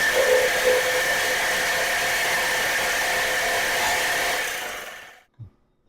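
A power cutter slices the top off a steel frame on a Jeep TJ. A loud, steady, close hiss and whine holds for about four and a half seconds, then winds down and ends with a small thump.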